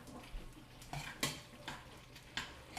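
Noodles being stirred and tossed with sauce in a pot, giving soft wet squelching and a few sharp clinks of a utensil against the metal at irregular moments, close up with no talking.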